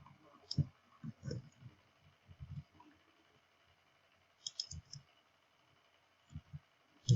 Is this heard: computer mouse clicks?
yes